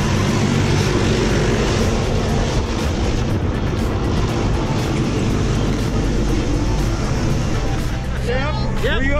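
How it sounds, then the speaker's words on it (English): A propeller airplane engine roars inside the cabin before a tandem skydive, a loud, steady droning rumble that fills the whole clip while people talk over it. "I'm going to throw Tim out of an airplane."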